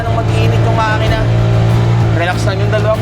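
A tuk-tuk engine climbing a steep hill labors loudly at steady high revs with a low throbbing hum, while a voice talks over it.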